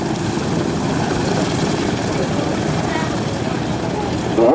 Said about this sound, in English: Our C-47 taxiing out, one of our transport aircraft that's going to be flying for you.